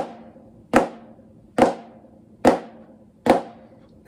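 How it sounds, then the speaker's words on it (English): A snare drum plays flams, a grace note just ahead of each main stroke, so each hit sounds as one broad attack. Four evenly spaced strokes ring out about once a second, close and fairly loud, without speech. "A flam adds a grace note to the main note."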